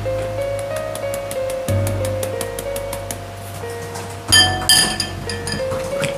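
A metal fork clinks repeatedly against a bowl in a quick, even rhythm while mixing a thick flour batter, with a few louder clatters partway through and background music underneath.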